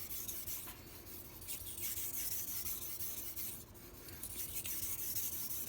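A MAC chef knife is sharpened on a 2000 grit Shapton Pro whetstone, producing continuous close, gritty rubbing strokes in a steady back-and-forth rhythm with no talking.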